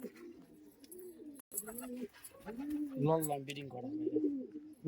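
Giribaz pigeons from Murshidabad coo in low, rolling, throaty phrases that repeat close by, with a voice talking over part of the cooing.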